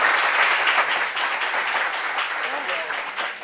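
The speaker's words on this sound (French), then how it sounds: "Applaudissez pour." An audience at a gathering about ghosts and strange stories applauds steadily for a few seconds, with voices mixed in beneath the clapping.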